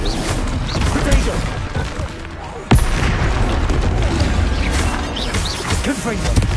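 Confringo fire spells exploding in the Hogwarts Legacy video game on PlayStation 5: a sustained roar of blasts and rumbling impacts with one sharp loud crack partway through, dense and continuous throughout.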